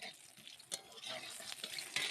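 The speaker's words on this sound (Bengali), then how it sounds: "গরম তেলে, কড়া গরম হলে এবং তাতে তেল দিয়ে, তেল গরম হলে হালকা করে কাঁকড়াগুলোকে ফার্স্টে ভেজে নেব" Crabs fry in hot oil in a wok, giving a soft, low sizzle with a few brief stirring scrapes and clicks, quiet and close.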